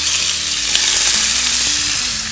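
Beef strips for lomo saltado frying in a very hot pan, a loud steady sizzle that fills the whole clip with a few faint clinks of stirring, and no voices.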